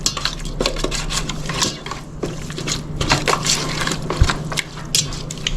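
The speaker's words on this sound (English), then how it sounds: "give it one more stir" Chicken teriyaki being stirred in a pan: steady clatter and scraping of a utensil against cookware with light sizzle underneath, close and continuous, no talking.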